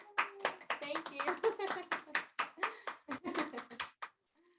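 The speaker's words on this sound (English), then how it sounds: "everybody's clapping for you over there" An audience claps at a piano masterclass, a brief burst of dense, fairly close applause that fades out.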